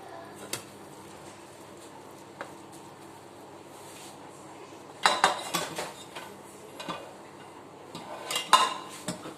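A utensil mixing cooked potato and onion in a pot, quiet at first with occasional taps, then a run of clinks and scraping stirs against the metal.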